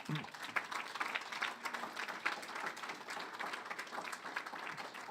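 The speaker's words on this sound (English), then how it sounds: "You can give that a big round of applause." A large audience at a university alumni awards ceremony applauds a family legacy award, producing a steady, dense wash of clapping heard from a distance, moderately faint and sustained for several seconds.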